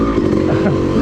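A Yamaha YZ250 two-stroke dirt bike runs along a woods trail, its engine a loud, close, steady buzzing drone with a faint rattle.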